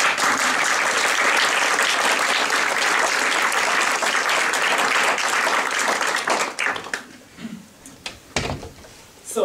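Concert audience gives a loud, dense round of applause for a shamisen performance, sustained for several seconds before fading into scattered claps and room noise.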